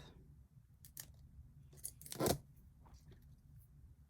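Scissors snip a pepper seedling stem: a few quiet, crisp cutting clicks in sparse succession, with one louder close snip near the end, in a quiet room.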